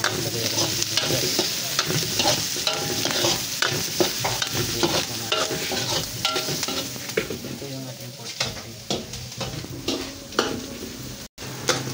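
Garlic and ginger fry in a pan, giving a steady crackling sizzle with frequent stirring scrapes and clinks of a utensil against the pan, close and continuous throughout.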